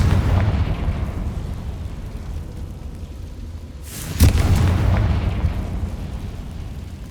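A Confringo spell blast in Hogwarts Legacy, a single sharp burst rising out of a steady low rumble and leaving a dense roar that fades slowly over the following seconds.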